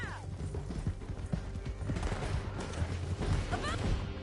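Horses gallop through a canyon in Red Dead Redemption 2, a dense rumble of hoofbeats under ongoing gunfire and shouting voices, busy and loud throughout.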